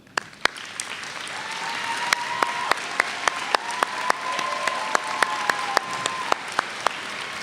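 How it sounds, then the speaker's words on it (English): Audience applause at a 2024 KCC college commencement as faculty stand to be recognized, a steady clapping crowd with sharp individual claps standing out near the microphone throughout. "If they will stand, let's applaud them."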